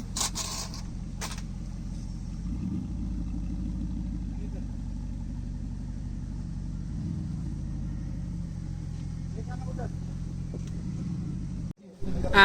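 A Mercedes SLS idles with a steady low rumble at a car meetup in Mumbai, parked between a Lamborghini and a Ferrari, the engine note holding even throughout and cutting off abruptly near the end.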